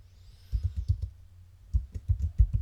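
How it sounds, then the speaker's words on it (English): Computer keyboard typing in two quick bursts of close, crisp key clicks separated by a short pause, with no talking. "And then we just start typing."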